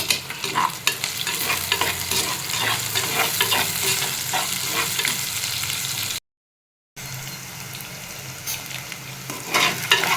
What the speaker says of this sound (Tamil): கொஞ்சமாக உப்பு சேர்த்துக்கலாம். அப்போ சீக்கிரமாக வெங்காயம் வதங்கும்.